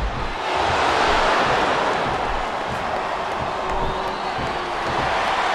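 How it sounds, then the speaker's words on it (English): Arena crowd in Smackdown vs RAW 2007 keeps up a steady, loud roar of cheering throughout, a dense wash of many voices with no pauses. "This capacity crowd is making their opinions known tonight."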